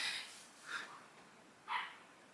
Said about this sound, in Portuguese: A minha cachorrinha resolveu latir justo hoje que eu tô gravando o vídeo.